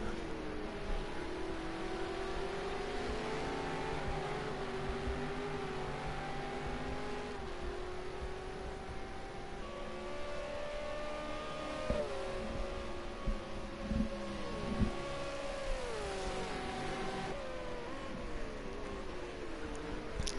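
Simulated V8 Supercars racing into corners at Road America, several engines droning and revving together, pitch rising and dropping through gear changes and braking, steady and fairly loud, with no talking.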